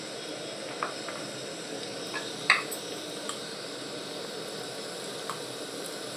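Two onions with turmeric sizzle in about three spoons of hot oil for a bitter gourd curry, giving a soft, steady frying hiss with a few faint clinks and stirring taps.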